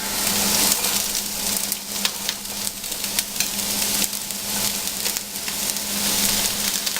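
Beets and cabbage cooking in a pot of borscht, giving a steady sizzling, bubbling hiss with faint stirring clicks that runs continuously at moderate volume.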